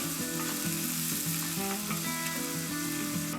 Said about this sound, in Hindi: अनियन को ब्राउन होने तक फ्राई कर लेंगे।